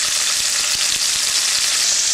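Anchovies, olives, capers and sun-dried tomatoes fry with garlic in oil over fairly low heat, giving a steady, close, even sizzle throughout with no voices.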